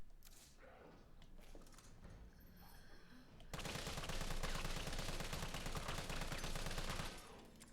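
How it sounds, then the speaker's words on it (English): An assault rifle fitted with a tactical grip fires in the Resident Evil 3 Remake video game, a dense stretch of rapid automatic gunfire that bursts in loudly halfway through and keeps going for several seconds. "Now let's try just the tactical grip attached to the assault rifle."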